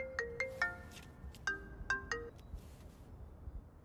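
A mobile phone ringtone plays a clear, bright electronic melody of quick repeated notes in two phrases, heard alone in a quiet indoor room.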